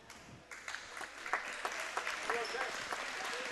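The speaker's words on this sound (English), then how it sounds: "Crowd gives a round of applause for Shanna Yates." A gym crowd applauds at a girls' high school basketball championship game, with a steady patter of clapping close by under a commentator's voice.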